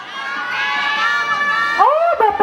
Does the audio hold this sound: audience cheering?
yes